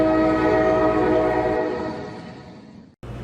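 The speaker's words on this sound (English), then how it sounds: "trains whistling" A train whistle sounds one long, loud, steady blast over rumbling rail noise, slowly fading as it trails off, followed by a brief cut and renewed low rumble.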